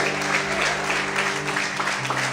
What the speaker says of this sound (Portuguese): Em nome de Jesus, vamos aplaudir, exaltar o Senhor bem forte